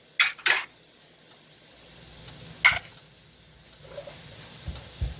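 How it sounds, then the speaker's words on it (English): Shrimp and garlic frying in a pan, with a faint background sizzle broken by a few sharp metallic clanks of utensils against the pan. "So that garlic and that shrimp gonna get to know each other"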